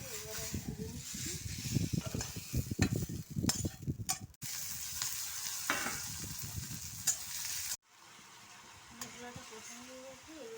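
Spice paste for a small-fish curry frying and being stirred in a pan, with busy scraping stirs over a constant sizzle, then a quieter stretch of low hissing.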